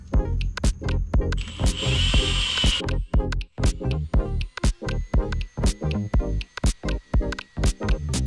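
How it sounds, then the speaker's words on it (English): A power drill revs in repeated short bursts, loud and close, drilling switch holes in a 1980 20-foot Robalo boat, with a steady stop-start rhythm and no talking. "Let's go ahead and drill the rest."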